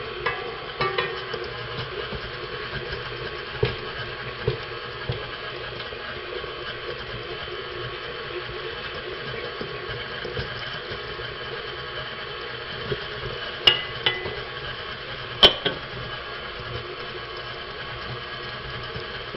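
Steady, continuous scraping and swishing of cookie dough with packed brown sugar being stirred in a bowl, a dense even texture lasting throughout with a few sharper knocks near the end, no talking.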